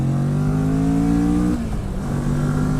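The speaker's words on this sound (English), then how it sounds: "The sound of this engine is bassy." A Kawasaki Vulcan S 2018 motorcycle engine revs with a deep, bassy drone, pitch rising steadily, then dropping sharply before settling into a lower hum, close by.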